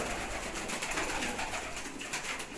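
Pigeons and sparrows housed together in one loft, a dense continuous mix of soft cooing and busy chirping and twittering close by, with no talk over it.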